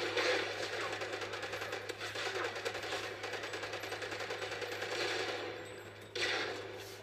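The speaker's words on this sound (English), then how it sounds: "That's the one thing I don't like about the AK-12, is that it fires so slowly." Rapid automatic gunfire from an AK-12 rifle in Call of Duty: Ghosts, a steady sustained burst of shots over game ambience that breaks briefly near the end and then resumes.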